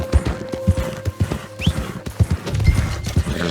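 Horse hooves clip-clopping at a steady trot in Red Dead Redemption 2, close and clear, with brief snorts and game ambience around them.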